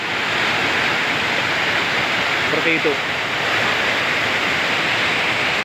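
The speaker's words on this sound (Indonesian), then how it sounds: "sekarang saya sudah sampai di air terjunnya" Waterfall at Klatak Beach, water crashing onto rocks, a loud, steady broadband roar filling the whole clip, with a brief spoken phrase over it.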